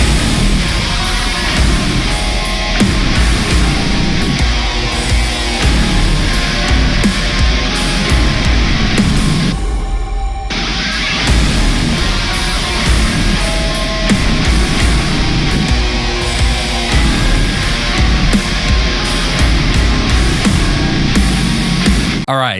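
Dense, loud THALL metal track: down-tuned heavy guitars, pounding drums and thick distorted layers playing continuously, with a brief drop near the middle.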